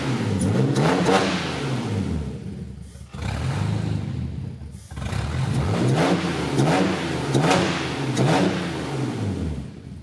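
A Volkswagen Passat engine fitted with a big camshaft revs hard in a series of rising and falling bursts, loud and close, with a lumpy idle between pulls and no talking.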